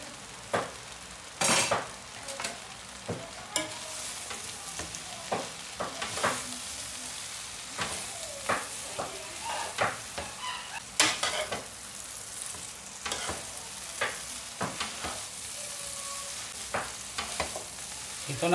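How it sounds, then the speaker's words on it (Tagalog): Fried salmon balls stirred into bihon rice noodles frying in a pan, giving a steady close sizzle with repeated sharp scrapes and clinks of a utensil against the pan, no voices. "ilagay natin yung ating pritong salmon kanina"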